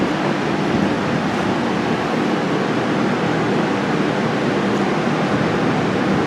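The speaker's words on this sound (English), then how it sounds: "water bubbling up through there" Water bubbling and rushing around a diesel DEF part held submerged, a steady loud wash of broadband noise with no pauses and no voices.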